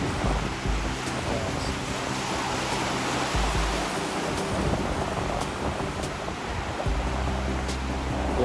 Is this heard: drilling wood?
no